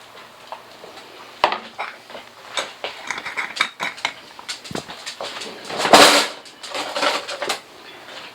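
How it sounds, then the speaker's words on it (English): A spoon stirs chicken corn chowder in a pot, clinking and scraping against the metal in irregular bursts, with a louder clatter in the middle, close up and without talk. "give it a stir"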